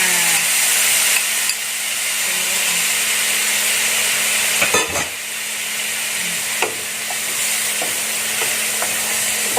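Prawns in tamarind marinade sauce sizzle loudly and steadily in a pan, a constant close frying hiss with a few stirring scrapes and clinks.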